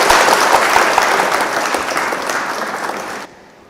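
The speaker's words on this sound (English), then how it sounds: "please give a round of claps to all the people and teachers, those who played very important role in your life" Audience applause at a college graduation ceremony, a loud crowd of many hands clapping steadily, slowly thinning over about three seconds before cutting off abruptly.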